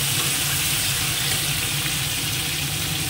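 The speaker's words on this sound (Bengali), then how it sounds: "সব আমগুলো দিয়ে তেলের মধ্যে নেড়ে নেব" Mango pieces for pickle tossed in hot oil, giving a loud, steady, unbroken sizzling hiss close by with no pauses.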